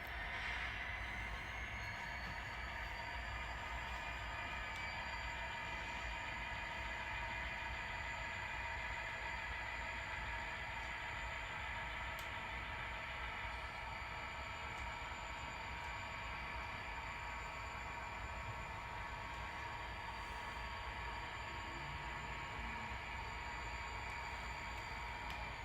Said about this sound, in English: So we pushed the cars back onto the train.